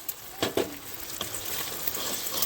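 Eggs frying in a pan, two cracked in together at home, give a steady soft sizzle with a few sharper crackles and spatters near the start, close by and with no talk over it.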